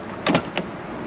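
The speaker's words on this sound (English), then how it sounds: "that's my door handle. For some reason, it just likes to stick out a bit and not go back in until you do that" A BMW Z3 roadster's sticking exterior door handle is pushed back into place, giving two quick close clicks followed by a softer third click, with quiet background between.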